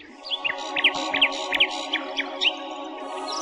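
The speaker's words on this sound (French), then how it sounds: "Et le rossignol chanta jusqu'à ce que l'empereur s'endorme d'un sommeil paisible" Nightingale singing, a series of quick bright chirps and trills repeating over a steady background drone of music.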